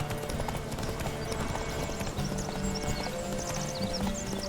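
Roach, a horse in The Witcher 3 video game, galloping with rapid continuous hoofbeats and a whinny, loud and close over dense game background sound.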